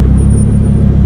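Lamborghini engine, a Gallardo or Huracan, heard as a loud, close, deep rumbling idle that holds steady for a brief moment without any talking.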